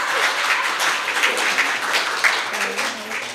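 Dinner banquet crowd applauding a speaker as he steps up, sustained, evenly spread clapping from many hands in a room, steady from start to finish.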